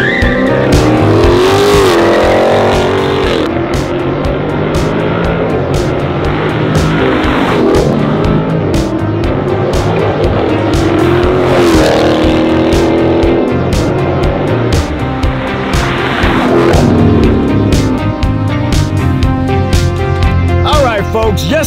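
A Dodge Challenger 392 T/A with its pedal box in sport mode plus and the car's sport mode on, accelerating hard, loud and close. The engine roars continuously throughout with revving and tire squeal, and a voice talks over it.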